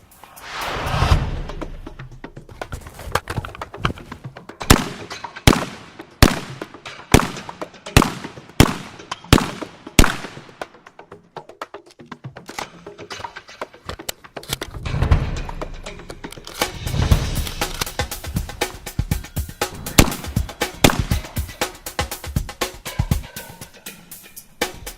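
A semi-automatic shotgun fires in rapid sharp bursts, loud close blasts in quick strings of shots with short pauses between volleys, echoing briefly outdoors.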